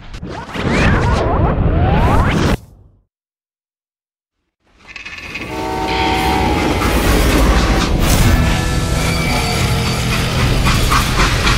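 A freight train from Call of Juarez Gunslinger rolls loudly and steadily on its rails with rhythmic clickety-clack and metallic whooshes, broken by a brief silent gap before the heavy rolling resumes close by.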